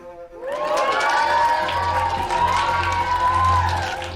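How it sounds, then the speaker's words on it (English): Children at a boarding school cheer and shout together in a loud, sustained burst of voices that rises quickly and holds steady, with high excited tones over a low background rumble. "They're only cheering because they know they don't have to go."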